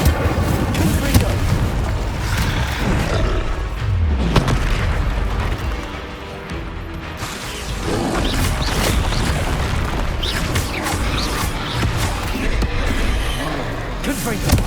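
Explosive Confringo spell blasts fired during Hogwarts Legacy combat, heavy booming bursts repeating across a dense battle soundscape with music and spoken spell incantations throughout.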